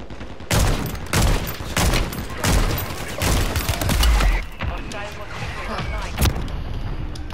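Rapid bursts of gunfire in a Call of Duty firefight, sharp repeated shots and heavy volleys crowding the whole stretch, loud and close, with voices calling out underneath.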